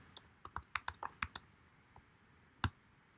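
Database command typed on a computer keyboard, a quiet run of about eight crisp key clicks in quick irregular rhythm, then a pause and a single louder final keystroke, close up with no talk.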